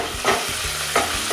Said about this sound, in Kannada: ಈರುಳ್ಳಿ ಕಟ್ ಮಾಡಿ ಇಟ್ಕೊಂಡಿದ್ದೇವಲ್ಲ ಅದನ್ನು ಕುಕ್ಕರಿಗೆ ಹಾಕುವ